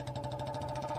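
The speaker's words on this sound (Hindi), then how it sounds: "अब पूरे सन्नाटे में बाइक की आवाज़ गूंज रही थी" Steady motorbike engine drone with fast rhythmic pulsing, moderately loud and continuous, as a night-ride sound effect in a spoken horror story, with no voices present.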